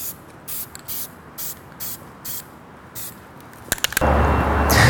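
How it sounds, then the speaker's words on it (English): Dupli-Color clear coat is sprayed from an aerosol can onto a car wheel in a series of short, evenly spaced hissing bursts close by, ending in one longer, louder continuous spray. "I laid down about 3 to 4 good coats of clear on this wheel"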